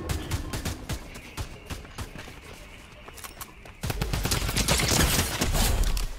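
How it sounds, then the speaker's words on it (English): Rapid bursts of Tommy gun fire in a video game, many sharp cracks in quick succession that swell louder and denser toward the end, with no talk over them. "Oh, you have the Tommy gun."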